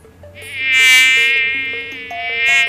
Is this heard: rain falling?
no